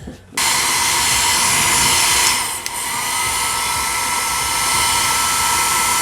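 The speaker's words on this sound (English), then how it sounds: "your new PYT Mini Turbo on-the-go dryer is powerful" A PYT Mini Turbo portable on-the-go hair dryer switches on with a sharp onset and blows a loud, steady, high-pitched whine and airy hiss, with a slight dip in the middle before continuing evenly.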